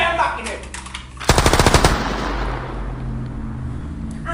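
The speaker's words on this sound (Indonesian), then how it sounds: "Langsung saja aku tembak ini." A rapid burst of gunfire in a school drama about G30S/PKI: a quick string of loud, evenly spaced shots rattles out for under a second after a muffled lead-in, leaving a fading echo and low room rumble.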